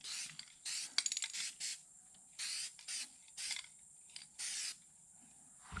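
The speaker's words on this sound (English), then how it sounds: "We're going to spray some Sim Guide Coat Black on there and be able to block sand." Aerosol cans spray black guide coat onto the primed sheet metal of a 1972 Chevy C10, giving a string of short, close hissing bursts separated by brief pauses.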